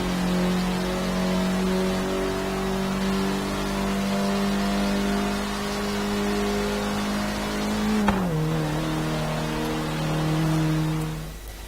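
An Abarth 695 Biposto driven in Forza Horizon 3 holds a steady, droning engine note that drops abruptly with a gear change partway through, loud and close, with no talk.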